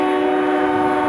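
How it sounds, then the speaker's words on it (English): A loud, close train horn blares in one sustained, steady multi-tone blast, drowning out everything else. "Yeah, we know you're there, train. Shut your hole."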